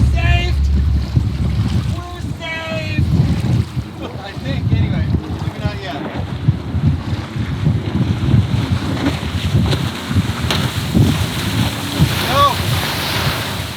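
Pontoon boat cruising across open water in a video game, with a constant rush of waves, wind and engine noise, while people talk over it in bursts.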